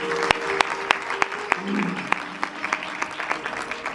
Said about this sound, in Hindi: पुनः एक बार तालियां बालिकाओं के लिए।